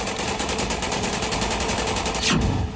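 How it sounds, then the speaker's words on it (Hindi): Rapid automatic gunfire from army troops in Kulgam, Jammu and Kashmir, a steady burst of many rounds fired in quick succession, loud and continuous throughout with a louder crack near the end. "सेना एक्शन में आई और कई राउंड फायरिंग की"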